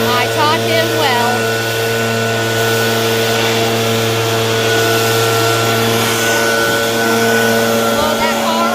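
A leaf blower blows off a car, a loud, steady whining drone that holds close throughout, with voices speaking over it.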